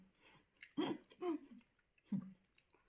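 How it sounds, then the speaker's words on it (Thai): Bakery bread being chewed while eating at home, with a few soft, close mouth sounds in short bursts and quiet pauses between them. "ในการกินและในการเคี้ยว"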